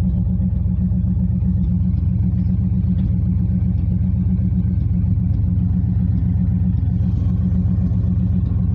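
A 1989 Chevrolet Silverado pickup engine running on old gas, a loud, close, steady low rumble that holds at an even idle throughout with no voices.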